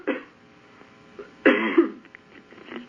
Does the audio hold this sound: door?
no